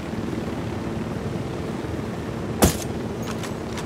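A steady helicopter rotor drone fills the background in the video game Ghost Recon Wildlands, broken by a single sharp bang partway through, then a few faint clicks.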